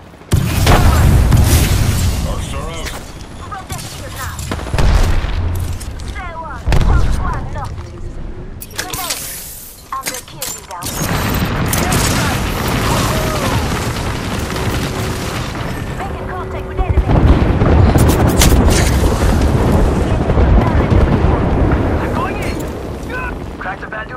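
A grenade explosion in the video game Apex Legends amid loud, chaotic firefight noise, with heavy booms and shots recurring over about twenty seconds and voices talking throughout.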